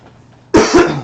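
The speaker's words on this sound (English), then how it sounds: "going to cough again" A man coughs twice in quick succession, close and loud, a sharp burst followed by a second hack and a short throaty tail after a quiet moment.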